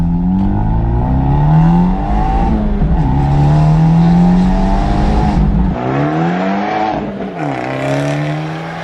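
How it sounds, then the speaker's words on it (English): Remapped Abarth 124 Spider engine revving loud and close with strong harmonic sweeps rising and falling, the remapped exhaust note cutting off sharply near the end before another rev, with no distinct crackles standing out. "The Pops and Bangs out the back, they feel very rally-esque, man."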